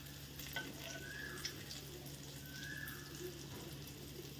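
Pomfret coated in rava shallow-frying in a pan over medium-low flame, giving a steady, quiet sizzle with faint crackles and no talking.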